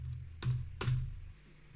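Two quick key presses on a computer keyboard while a PLC program is being entered, close and fairly quiet against a low hum.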